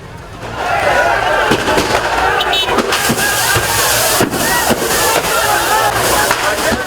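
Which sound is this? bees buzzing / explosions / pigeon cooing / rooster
explosions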